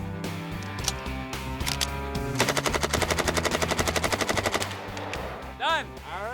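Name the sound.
rapid gunfire from a gun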